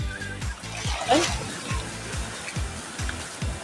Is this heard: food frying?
no